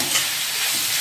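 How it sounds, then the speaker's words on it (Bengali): Onions frying in oil to make crisp berista for chicken biryani, a loud dense sizzle that hisses evenly from start to finish with no pauses. "এখন আমাদের হচ্ছে বেরেস্তা ভাজা।"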